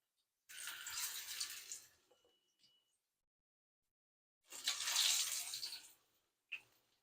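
Onion pakoras in gram-flour batter sizzle in hot oil over a low flame, with two bright bursts of hissing crackle, each a second or two long, separated by near silence, then a brief final spurt.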